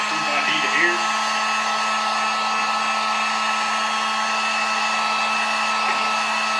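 A heat gun on low heat blows steadily at a plastic Miata instrument cluster cover, a constant close whooshing hum with no talking.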